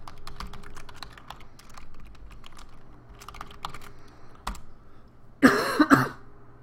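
A single short cough bursts out near the end, loud and close, after a stretch of quiet computer keyboard typing with scattered key clicks.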